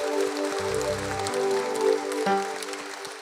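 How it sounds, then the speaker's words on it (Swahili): A church congregation at a Kikuyu worship service claps hands together in a dense, steady patter, with sustained keyboard-like musical tones and low bass notes underneath, fairly close and loud throughout. "Nganisha mikono yako tupigie Bwana makofi"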